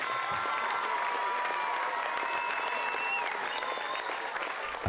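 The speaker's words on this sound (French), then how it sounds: "Pour la longue pomme, on applaudit, allez!" A crowd applauds steadily at a longue paume tournament, dense clapping filling the whole stretch at even loudness, with faint voices and a high tonal ring above it.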